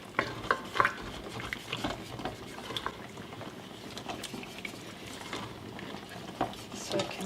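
A spoon stirring and scraping the bottom of a pot of braising beef rouladen sauce, irregular clinks and scrapes over a soft bubbling simmer, close up with no voices.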